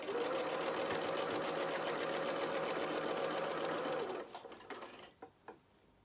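Sewing machine stitching a soft toy bear's body and limbs, a fast steady rhythmic needle chatter that stops abruptly, followed by a few quiet clicks and handling sounds.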